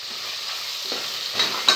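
Tomatoes sauté with softened ginger, garlic and onion for a vegetable biryani, a short soft frying hiss with a couple of quick stirring scrapes near the end.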